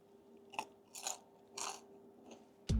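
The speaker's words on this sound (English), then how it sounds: "Listen to the crunch of this crackling here." Crisp crunching bites into pork crackling, three or four in slow succession, close and distinct against a quiet background.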